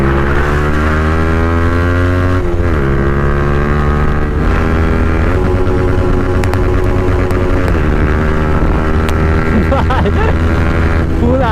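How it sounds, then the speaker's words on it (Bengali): A 2024 Yamaha R15M motorcycle with a loud exhaust revved hard at full RPM, a loud, steady engine drone with rising and falling rev sweeps heard up close, with a little background talk. "ফুল RPM ধরেছিলাম"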